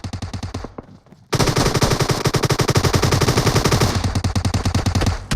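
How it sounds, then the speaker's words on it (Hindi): Loud rapid bursts of automatic gunfire in the battle royale game PUBG Mobile, a brief stutter then a long continuous rattling volley that briefly thins before resuming, no talk. "अब पीछे से टीम नंबर 4 के प्लेयर भी थोड़ा थोड़ा गोली चला रहे हैं"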